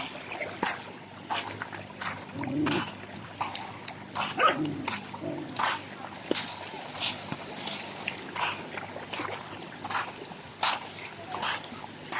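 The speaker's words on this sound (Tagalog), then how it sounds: "dito na naman mga aso, nag-ipon-ipon na naman." Several dogs gathering at a shoreline where people bathe, barking in intermittent bursts against steady outdoor background noise, some barks nearer and louder than others.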